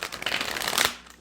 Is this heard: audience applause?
no